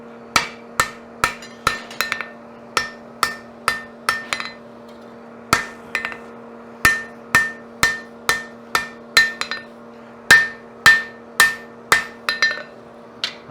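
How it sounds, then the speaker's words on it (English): A blacksmith strikes metal with a hand hammer, dozens of sharp ringing blows in a quick steady rhythm with brief pauses between bursts, loud and close over a constant low hum. "I'm going to use the heel of the hammer"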